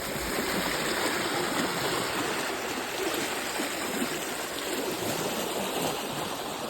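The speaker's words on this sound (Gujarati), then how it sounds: "કેવું પાણી જાય છે તમે જોઈ રહ્યા છો" Water rushes steadily through an irrigation canal on a farm, making a loud, continuous close-up gushing and babbling flow with no pauses and no voices.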